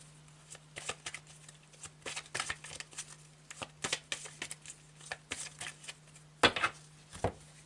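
Tarot cards handled and shuffled close up, a steady run of papery flicks and slides with a louder snap near the end over a faint electrical hum.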